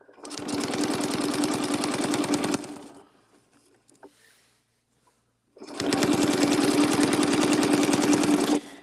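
A sewing machine stitches through a quilt along a circular template in two loud, fast, buzzing runs, separated by a few seconds of quiet with faint handling noises.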